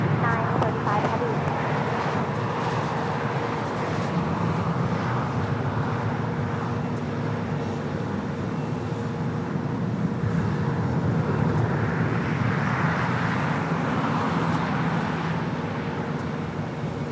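A Hawaiian Airlines Airbus A330 heavy jet at LAX gives a steady, broad engine roar that holds for the whole stretch, mixed with airport traffic noise and faint radio chatter.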